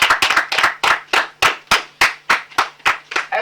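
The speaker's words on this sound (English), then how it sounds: "Round of applause for our winner for today." Studio audience clapping for the winner of a televised children's quiz show in Nigeria: a steady rhythmic run of about a dozen loud, sharp, close claps, evenly spaced, with no talk over them.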